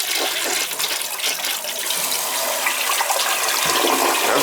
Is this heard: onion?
no